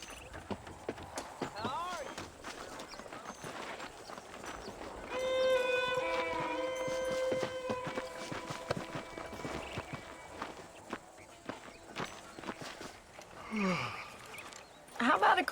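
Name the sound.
horse hooves while riding, video game Red Dead Redemption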